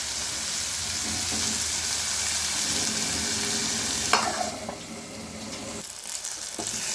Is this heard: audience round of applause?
no